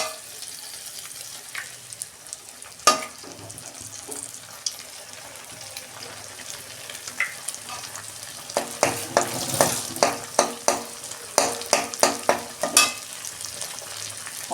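An egg goes into cooked spice masala in a pan for a dal tadka, with a quiet simmering frying sound, then a run of sharp, rhythmic spatula scrapes and knocks near the end.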